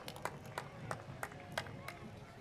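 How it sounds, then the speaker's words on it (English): Scattered hand claps at an outdoor Fourth of July parade, a handful of sharp, irregular claps standing out over a low crowd murmur, fairly faint and distant. "Let's give them a big round of applause."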